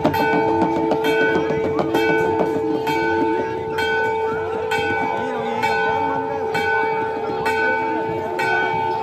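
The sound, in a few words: temple bells ringing at Kedarnath temple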